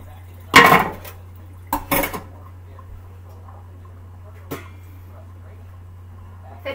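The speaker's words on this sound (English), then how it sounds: "Got my colander ready for the potatoes to drain." Pot and colander handled in a kitchen while draining potatoes, a few sharp metallic clanks and clatters close by, separated by quiet gaps with a low hum beneath.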